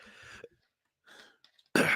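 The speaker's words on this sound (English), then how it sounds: "I can't stop coughing." A few harsh coughs come in short bursts separated by silence, ending with one louder, rasping cough close to the microphone.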